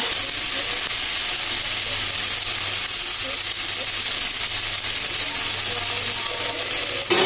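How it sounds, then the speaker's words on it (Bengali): Fried onions with tomato puree being stirred in a pan, a steady close sizzle with scraping stir sounds running throughout, low hum underneath. "টমেটো পিউরিটা দিয়ে আমি একটু নেড়ে নিচ্ছি"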